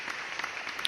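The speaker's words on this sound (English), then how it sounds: "Round of applause for Oxxxymiron" Brief burst of applause from a crowd, a quiet, steady patter of many hands lasting under a second.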